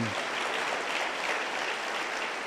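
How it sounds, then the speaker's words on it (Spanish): A crowd applauds steadily during a Pentecostal church service, a dense wash of clapping that carries on without pause, fairly distant and even. "Dele un fuerte aplauso contento para Jesús"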